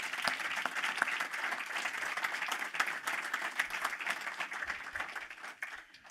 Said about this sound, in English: Can we please give a round of applause for Victoria Lennox, the founder and CEO of Startup Canada.